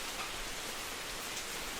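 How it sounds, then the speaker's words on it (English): Steady, dense patter of rain falling around an outdoor porch in the morning, a soft continuous hiss with no talking and no breaks. "in the rain, and the rain, and the rain"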